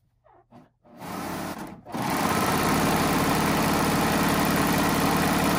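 A serger sewing machine runs steadily while piecing a jelly roll texture quilt, starting with a few short bursts before settling into a loud, continuous whirring drone that carries on to the end.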